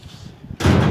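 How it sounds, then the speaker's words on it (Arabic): A door is slammed shut, one sudden loud bang that hits after a stretch of quieter low thumps and rumble and then lingers as a heavy broadband wash. "يلا يا ابوي سك الباب"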